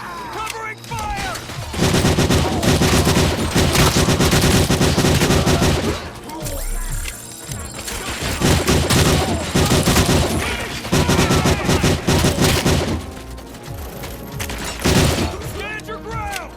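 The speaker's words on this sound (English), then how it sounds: "Covering fire!" Sustained gunfire erupts in the robot cop game Policia Robotico, rapid automatic bursts and fusillades rattling loudly in waves with brief pauses, shouted voices breaking through between volleys.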